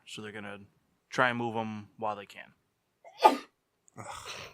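A single sharp sneeze breaks in after a stretch of conversational talk, close and fairly loud, followed by more speech.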